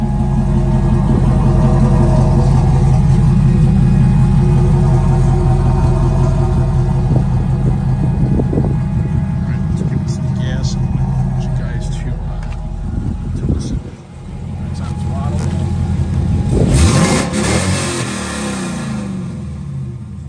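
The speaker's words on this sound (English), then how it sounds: "Let's listen to the exhaust a little bit." A loud, deep LS1 V8 exhaust on a 1969 Chevrolet Camaro rumbles steadily, then revs up sharply and settles back into a throaty idle, with no voices over it.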